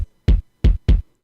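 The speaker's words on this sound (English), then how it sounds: "I used my 707 kicks over here, and they sound like this" Three deep, punchy 707 drum machine kicks, each a short boomy thump, spaced unevenly and played alone against silence.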